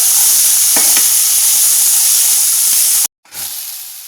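Green peas sauté in hot oil in a pan for a grilled veg sandwich, a loud steady sizzle with a couple of faint stirring knocks before it briefly cuts out and resumes.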